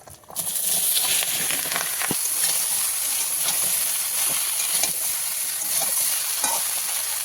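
Pieces of bottle gourd drop into hot oil tempered with dried red chilies and bay leaves, and a loud, steady sizzle starts at once, continuing evenly with faint stirring clinks.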